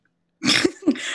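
A single sharp sneeze bursts out close by after a moment of silence, with a brief breathy catch following.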